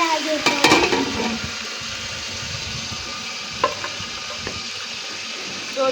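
Onions frying in a pan on a home stove for chicken palao: a continuous soft sizzle with clattering stirring knocks near the start and a few faint scrapes later, close and fairly loud.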